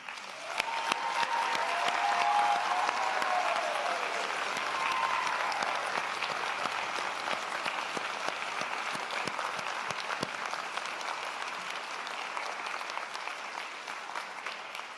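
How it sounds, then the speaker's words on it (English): Sustained applause from a graduation convocation audience of faculty, family and friends fills a large hall, dense and steady throughout, peaking early and slowly tapering without fading out, with a faint murmur of crowd underneath. "Graduates, a round of applause, please."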